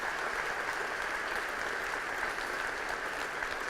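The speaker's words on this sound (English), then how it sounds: "Give yourselves a round of applause for the American dream," A graduating class applauds at a commencement ceremony, a steady, dense wash of clapping from a large crowd that holds evenly throughout without breaks or speech.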